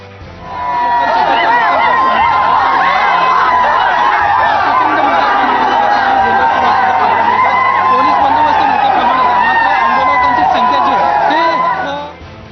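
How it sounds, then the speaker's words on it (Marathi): A large crowd of Maratha quota protesters fills Chhatrapati Shivaji Maharaj Terminus in Mumbai, a dense, steady roar of many voices chattering and calling out, sustained loud throughout with no single voice standing out. "छत्रपती शिवाजी महाराज टर्मिनसमध्ये आंदोलकांची गर्दी।"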